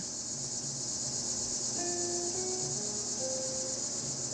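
A cicada buzzes continuously at a high pitch, a constant droning hum with a few faint tonal sounds passing underneath.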